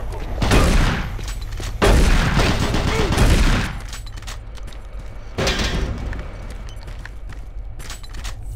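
Shotgun blasts in the video game Doom 3, two or three loud, heavy booms with lingering rumble, separated by quieter stretches of game ambience.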